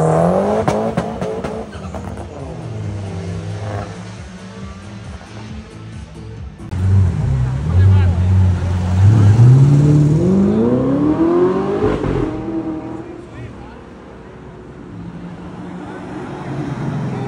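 A loud sports car engine, a BMW M5 or Ferrari, roars and revs up and down, deep and throaty, with a rising pitch sweep in the middle before settling back to a rumble.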